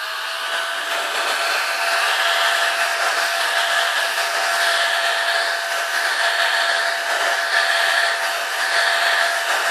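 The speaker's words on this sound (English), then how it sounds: "we're just using a heat gun and a former" A heat gun blows hot air onto the fiberglass sides of a boat hull while the frame is bent over a former, giving a loud, unbroken, even whoosh for the whole stretch.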